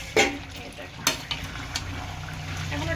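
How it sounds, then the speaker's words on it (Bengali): Meat stir-fried kosha-style in a pan makes a soft continuous sizzle and stirring scrape, punctuated by a few sharp metallic clinks of the utensil against the pan. "তো মাংসটা কষাচ্ছি আমি"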